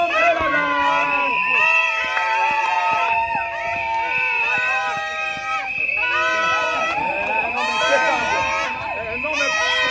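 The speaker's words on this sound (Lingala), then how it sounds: "Acclamons l'homme et la dame." Guests at a wedding civil ceremony cheer, shout and applaud loudly for the couple, a dense continuous crowd roar with high excited voices and children shouting throughout, mixed with lively music.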